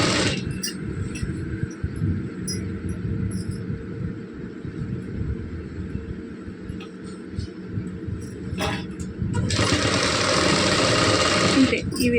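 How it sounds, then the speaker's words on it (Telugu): A sewing machine stitching thread piping onto fabric with a normal presser foot whirs in a steady, fairly quiet run, then speeds up louder and buzzier for the last few seconds. "ఇప్పుడు దీన్ని ఇక్కడ కుట్టి చూపిస్తాను చూడండి"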